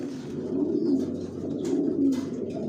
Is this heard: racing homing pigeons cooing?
yes